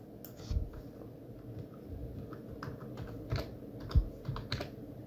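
Light, scattered keystrokes on a computer keyboard as a shapefile name is typed, soft clicks at an uneven pace over a low background hum.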